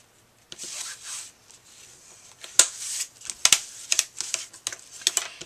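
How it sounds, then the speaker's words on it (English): Paper being creased with a bone folder while making a greeting card with a gift card holder: soft rubbing strokes broken by several sharp, crisp scraping clicks, close and fairly quiet, with no talking. "give it a good crease with the bone folder"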